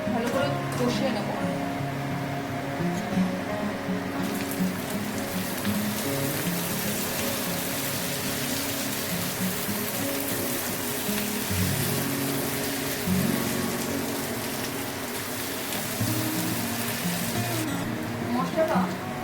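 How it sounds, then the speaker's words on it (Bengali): Potatoes and gati kochu frying with spices in a pan, a steady crackling, rain-like sizzle that continues throughout at moderate level, with an occasional faint clink. "আমি মশলার সাথে আলু আর গাটি কচু ভালো করে কষিয়ে নেব।"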